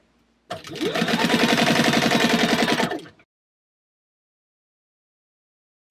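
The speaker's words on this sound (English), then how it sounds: "We're going to be sewing 1/8 of an inch on the sides, and then just sewing the slip pocket in." A sewing machine stitches an eighth-inch seam along the sides of a purse's slip pocket at 3 stitch length, running steadily and loud for about two and a half seconds before stopping into silence.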